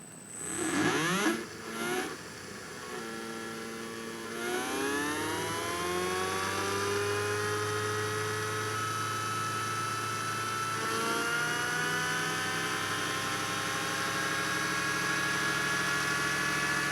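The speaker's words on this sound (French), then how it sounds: "Le moteur est allumé, il tourne à sa vitesse maximum." A DIY axial flux brushless electric motor with nine coils and eight neodymium magnets spins up with a rising whine, then holds a steady, layered high hum at maximum speed.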